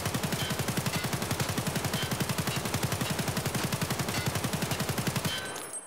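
Sustained automatic fire from an AK-74M assault rifle in Escape from Tarkov, a rapid, steady, evenly spaced burst of loud shots lasting about five seconds and stopping abruptly, with no talk.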